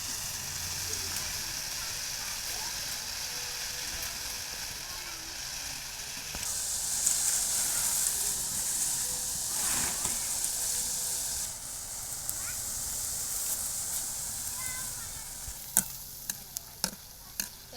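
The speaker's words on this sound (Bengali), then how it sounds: "এবারে আমি লাল কালারের বোঁদেগুলো ভেজে নেব" Red boondi batter frying in hot oil, a dense continuous sizzle with bubbling crackle, briefly swelling louder midway and ending with a few sharp clinks of a utensil against the pan.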